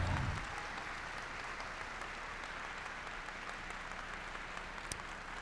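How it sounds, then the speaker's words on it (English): Sustained applause from a hall audience at a Hall of Fame induction ceremony, a steady dense crackle of many hands that holds evenly throughout, fairly distant, with one sharper clap standing out near the end. "one more round of applause for these incredible men and women"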